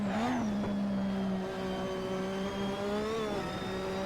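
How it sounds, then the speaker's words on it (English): Turbocharged Lotus Formula 1 race car engine held at full throttle, a loud sustained high-pitched drone with a steady whine and a brief pitch rise and dip partway through, heard alone without talk. "I can just hear the turbo"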